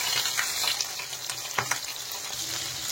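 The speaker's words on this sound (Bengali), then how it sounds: "গ্যাসের ফ্লেম কিন্তু কম করেই এগুলো ভাজবো" Fish and potatoes fry in oil over a low gas flame, giving a soft, steady sizzle with occasional faint clinks and stirring taps, close and quiet, with no talking.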